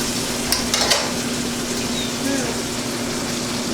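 Steak searing in hot oil in a large skillet, producing a loud, continuous close-up sizzle with a few sharper pops and spits near the start.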